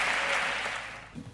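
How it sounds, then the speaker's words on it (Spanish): Applause at a podcast award ceremony, a dense wash of clapping from an audience that fades over about a second, heard fairly faintly. "Un fuerte aplauso."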